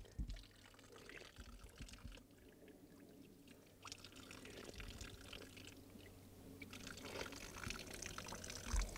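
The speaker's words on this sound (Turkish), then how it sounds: "Ama biz suyu yine de ekonomik kullanalım. Herkesin kullandığı gibi damlasından alıp içelim." Water from a natural spring trickles and pours steadily outdoors, close by, with faint splashes and dribbles swelling slightly toward the end.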